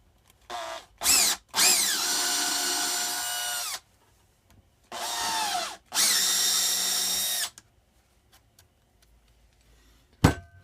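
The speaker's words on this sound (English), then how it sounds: "We're just going to drill out our hole here." A handheld power drill bores a hole for a part on a 1987 Snapper PT7 in short whining bursts: two quick blips, a longer run, then two more sustained runs separated by silence, close and loud.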